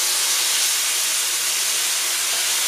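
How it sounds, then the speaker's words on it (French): Hot oil meeting soy sauce in a wok while chicken cooks, a loud, continuous close-up sizzle and hiss with a spoken line over it. "c'est le fait que l'huile rencontre la sauce soja et du coup ça saute un peu"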